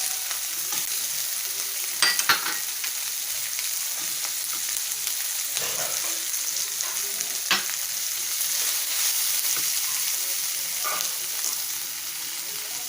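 Capsicum and bell peppers sizzle steadily in a pan with ginger garlic paste, a close, continuous hiss broken by a few sharp stirring scrapes and clinks.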